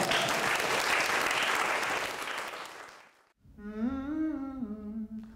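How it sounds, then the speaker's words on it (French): An audience at a vocal coaching session applauds in a dense patter for about three seconds, fading out, then a sung vowel follows alone. "applaudissez-vous"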